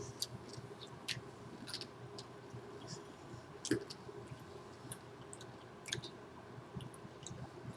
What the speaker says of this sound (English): Oh, I'm not having any trouble chewing